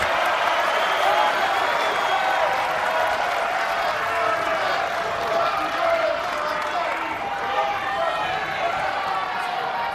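The crowd at a college wrestling match between Oklahoma State and Nebraska gives steady arena cheering and applause, building into a sustained roar under a commentator talking.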